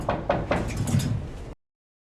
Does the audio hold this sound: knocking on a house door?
yes